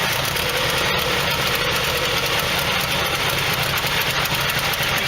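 A Nissan N13 Pulsar's CA18DE engine idles roughly at close range with a leaking exhaust manifold, giving a steady throbbing, slightly uneven rumble with no pauses, loud and continuous throughout.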